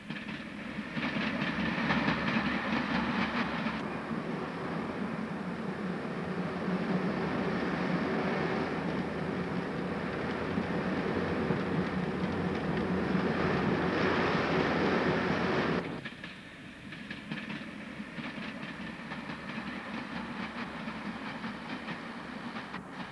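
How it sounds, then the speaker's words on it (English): Diesel multiple unit running on rails near the half-mile Cumberworth Tunnel on the Huddersfield–Sheffield line, a loud steady rumble with clickety-clack that drops off sharply near the end as the train moves away, with no voices. "The unit passes the rusty rails swinging away left and is soon swallowed up by the 1/2 mile long Cumberworth Tunnel"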